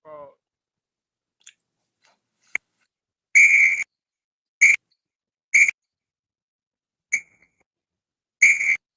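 Sharp, high whistle blasts sound as a stand-alone effect, roughly six short bursts spaced unevenly with silence between them, the middle ones loudest and clearest.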